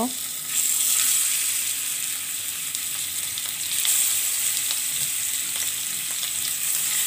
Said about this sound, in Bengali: তো মাছগুলো দিয়ে দিচ্ছি, হালকা ভেজে নিব